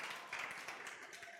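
A church congregation claps together at a Spanish-language Sunday service, producing a soft, dense patter of many hands that sounds faint and somewhat distant and lasts about a second and a half.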